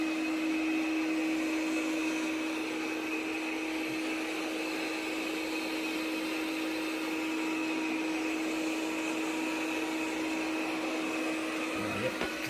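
A robot vacuum cleaner runs steadily while vacuuming and mopping a floor strewn with flour and dirt, its motor giving off a constant close, even whir with a sustained tone, unbroken throughout and with no talking.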